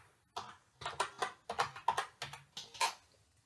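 Login details go in on a computer keyboard as about ten close, distinct keystrokes at an uneven, unhurried pace, faint and with no voices.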